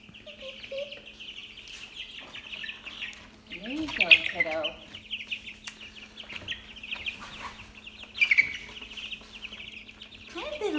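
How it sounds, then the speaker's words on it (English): Baby chickens peep and cheep in an insulated mobile chicken coop being built, with high chirps coming and going over a low steady hum while a person talks briefly nearby. "Hi, little baby chickens."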